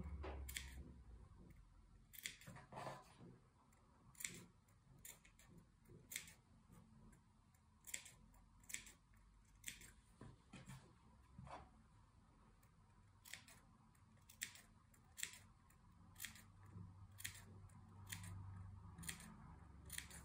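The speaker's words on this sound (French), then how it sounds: "on vient cranter également l'arrondi de manière régulière pour que le tissu se positionne bien quand on va retourner" Scissors notching the curved edge of dress fabric, producing a long series of crisp, quiet snips at a fairly regular pace, close up with faint room hiss and no talking.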